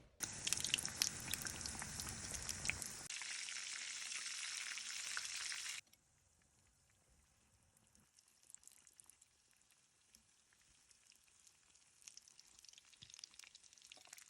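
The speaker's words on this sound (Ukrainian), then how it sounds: "переходжу до плити і буду смажити в великій кількості олії" Loud, steady sizzle of fish and meat pies frying in plenty of oil for a few seconds, then it cuts out, leaving quieter kitchen sounds with faint bubbling and clatter.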